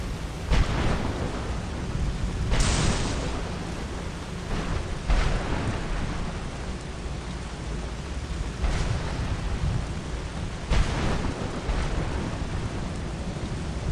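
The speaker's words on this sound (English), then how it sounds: "What if I call for a storm?" A thunderstorm summoned in the video game Skyrim: steady heavy rain roars throughout, broken by several sharp cracks of thunder at irregular intervals, loud and close, with no talking.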